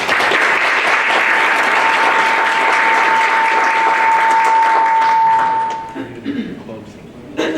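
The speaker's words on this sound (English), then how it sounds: "Please give each candidate a round of applause" A hall audience applauds the candidates at a 2023 city council candidate forum, with loud, dense clapping sustained for about six seconds before thinning out, and a steady faint whistling tone running underneath.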